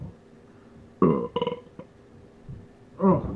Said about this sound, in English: Besides the burp